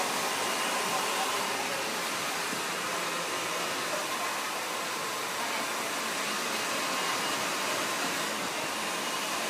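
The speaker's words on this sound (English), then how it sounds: "as soon as you start blow drying it backwards" A hair dryer blows hair backwards during a salon haircut, a steady, loud, close whoosh of airflow running unbroken throughout with no voices over it.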